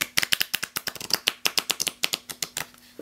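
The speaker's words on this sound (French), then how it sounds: "On secoue, on tape sur le coin du tapis." Playing cards rattled in a shaken deck and tapped against a mat corner by a magician, giving a fast train of about two dozen crisp, close clicks and flutters that thin out at the end, with no talking.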